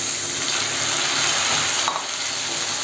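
Onions and tomatoes sautéing in a pan for an egg curry, a loud, continuous close sizzle with faint stirring scrapes, no speech.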